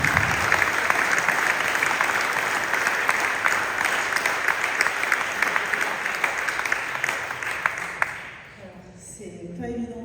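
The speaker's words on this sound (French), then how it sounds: "Et on vous applaudit juste avant." Sustained audience applause at a stage event, a dense even roar of clapping for about eight seconds that fades out, followed by a quiet moment with a voice beginning to speak.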